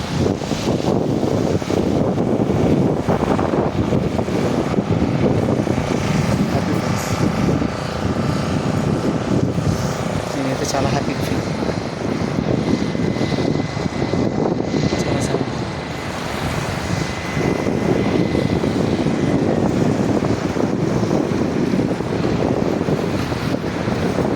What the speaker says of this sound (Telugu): కెరటాలు చూసారు ఎంత బాగా వస్తున్నాయో వేవ్స్.